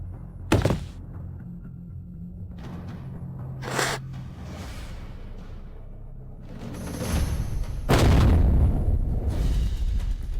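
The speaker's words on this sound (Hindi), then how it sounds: "क्या हुआ? धमाका कैसे हुआ?" A loud explosion in an animated action drama, with sharp booming blasts near the start and middle and a heavy rumbling burst later, set against an ongoing battle din with no talk.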